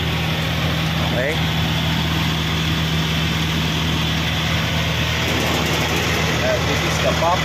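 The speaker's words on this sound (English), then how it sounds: "Then this is the engine." A Weichai 215E hydraulic excavator's diesel engine idles with a steady, unbroken low drone throughout, close and fairly loud, with no talk heard.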